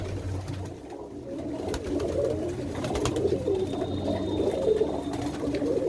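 Racing pigeons coo in a loft, low rolling calls repeating close by over a steady background hum, with no talking.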